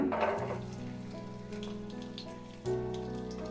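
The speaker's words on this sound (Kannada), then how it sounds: "ಇದನ್ನೆಲ್ಲ ಒಂದೊಂದಾಗಿ ನಾನು ಸೇರಿಸ್ತಾ ಫ್ರೈ ಮಾಡ್ಕೊಳ್ತೀನಿ" Ginger and garlic frying in a pan for a chicken gravy, a steady close crackling sizzle throughout that swells again near the end, with no talking.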